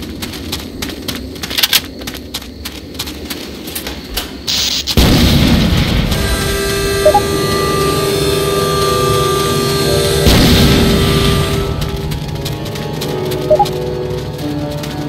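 Loud pipe bomb blast in a Mortal Kombat Star Wars mod battle against stormtroopers, a sudden broadband boom that rolls into a long sustained rumble and debris clatter, with a second swell a few seconds later over busy game noise.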